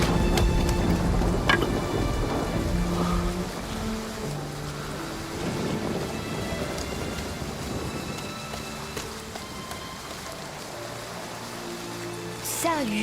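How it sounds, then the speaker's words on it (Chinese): Heavy rain pours in a steady, dense hiss in a period drama scene, with a musical score playing over it throughout. "下雨了"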